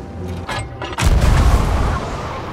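Ship cannons fire in the pirate game Sea of Thieves: a couple of sharp cracks, then one loud, booming cannon blast that rumbles on for about a second, close and with no talking over it.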